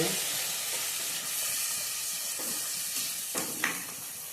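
Tomato puree sizzles and hisses steadily in hot oil in a pan while cooking a Kathiyawadi bottle gourd curry, a continuous close frying crackle with a few soft stirring scrapes near the end.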